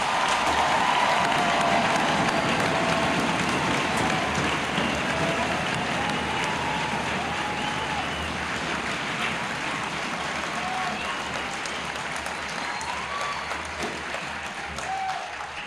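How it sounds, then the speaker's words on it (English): Sustained applause from a large crowd at an Army basic training graduation, dense and steady clapping that fades slightly toward the end, with a few faint cheers. "Let's give them and their drill sergeants a round of applause."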